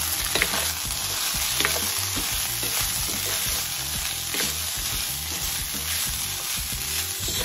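Vegan ground crumbles sizzle steadily and loudly in a hot pan while a utensil stirs them in a regular scraping rhythm, with no talk.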